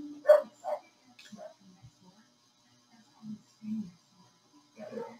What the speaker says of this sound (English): My neighbor has dogs, and it just sounds like they're just right here by my window right now